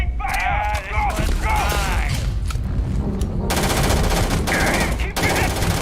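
Sustained automatic gunfire fills a Starfield firefight, loud and dense with rapid bursts throughout, while a voice briefly shouts over the shooting.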